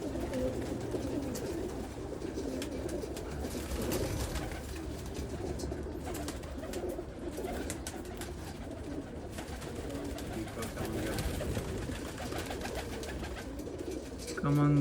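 Chinese teddy pigeons coo in a loft, a steady chorus of soft overlapping cooing and fluttering throughout at moderate level, with someone speaking briefly.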